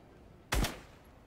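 A single short, loud gunshot burst in a video game, fired at a box, standing out sharply against a quiet background.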